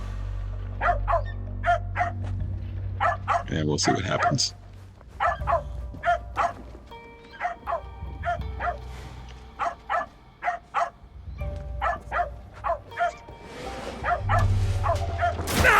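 Dog in the video game Assassin's Creed Shadows, barking and yipping in a steady run of short, sharp calls across the whole stretch, moderately close, with game ambience beneath and a brief bit of talk.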